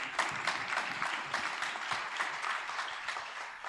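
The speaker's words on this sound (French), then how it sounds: "on peut l'applaudir" Steady applause from a conference audience fills the space evenly, a dense wash of many hands clapping at a moderate distance with no break.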